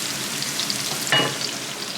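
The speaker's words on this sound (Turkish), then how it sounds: "Şöyle güzel bir menemen yapıyoruz." Menemen of chopped tomatoes and peppers frying in a pan, a steady soft sizzle with a brief louder burst of crackle near the middle, no voices.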